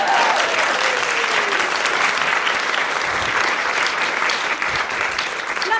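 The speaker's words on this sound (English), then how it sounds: "Nothing like forcing your own applause." An audience applauds after a poem is read, loud sustained clapping from many hands that carries on evenly throughout, a little crowd murmur mixed in underneath.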